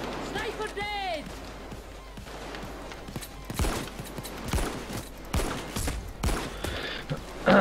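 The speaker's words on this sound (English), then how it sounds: "Where the fuck am I getting shot from now?" Bursts of gunfire from the video game Payday 2, with sharp shots and rapid volleys scattered through the scene alongside other game sounds, while a player talks over the action.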